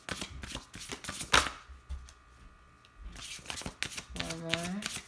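A tarot deck is shuffled in quick riffling bursts, with brief card handling between them, close and crisp against a quiet room; a voice speaks briefly near the end.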